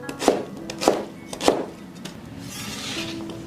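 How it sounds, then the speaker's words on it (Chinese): A knife chops a pear into small pieces on a cutting board, three distinct sharp chops at an even pace, close and clear, with no talking. "切成小块，"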